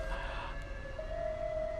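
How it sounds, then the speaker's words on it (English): A distant siren wails outside on a Brooklyn street, faint and steady with a rising tone, heard over low background city hum. "if you hear sirens, it's because I live in Brooklyn"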